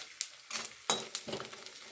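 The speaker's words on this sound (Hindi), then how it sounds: "घी हमारा थोड़ा गर्म भी हो रहा है, और एक बार में नहीं करना है, थोड़ा थोड़ा ही डाल के करेंगे ताकि अच्छे से ये फ्राई हो जाए।" Laddu mixture frying in hot ghee over a low flame, a soft sizzle broken by a few quick spoon clinks and scrapes against the pan, close and fairly quiet.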